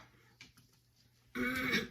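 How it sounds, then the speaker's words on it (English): A throat being cleared with a short rough burst near the end, after quiet room sounds and a faint earlier rasp. "Forgive me for clearing my throat."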